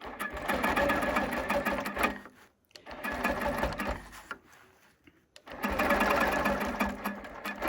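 A long arm quilting machine stitches along a quilt edge while basting, its rapid mechanical whirring running in three loud bursts separated by brief pauses, close up with no talking.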